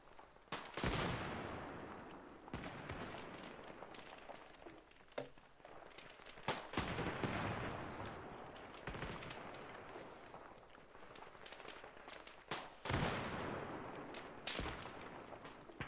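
Gunfire in the video game ArmA 3 on an African campaign mission, with repeated loud booming shots and rumbling blasts spread over a continuous noisy battlefield backdrop, some near and sharp, others duller, no talk.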